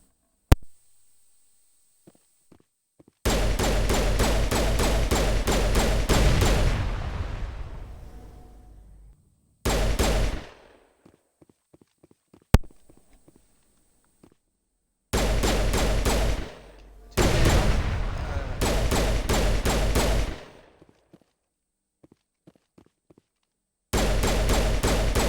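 Bursts of automatic gunfire in the sci-fi shooter Mass Effect, three long sustained volleys broken by short single shots and pauses, loud and close, with no talking.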